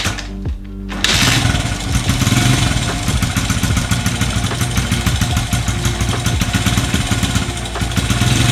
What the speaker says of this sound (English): Now that we got our bike running, we're gonna go ahead and just let this get heated up